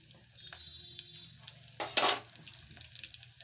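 Cumin seeds dropped into about two spoons of hot oil for a dill and green gram stir-fry, giving a short, bright crackling sizzle over a low steady kitchen hum, loudest for a moment then settling.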